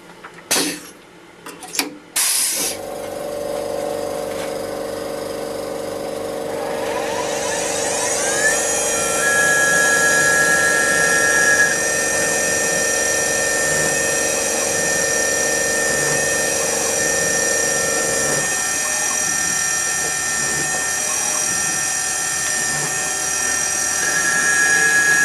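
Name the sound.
CNC mill spot drilling metal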